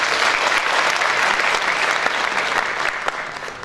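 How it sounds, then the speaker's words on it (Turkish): Strong, sustained applause from a seated audience at a Turkish association's leadership ceremony, dense clapping filling the hall at steady volume and tapering slightly at the end. "Tekrar güçlü bir alkış istiyoruz efendim."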